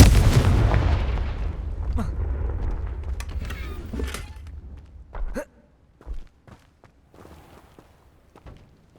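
Fire-spell explosions from the Hogwarts Legacy game: a big blast that rumbles and fades over several seconds, followed by scattered thumps, crackles and a few sharper pops that grow quieter.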